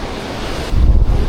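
Strong wind and rain buffet the microphone over crashing surf on a Boracay beach, with a louder gust of roaring noise in the second half.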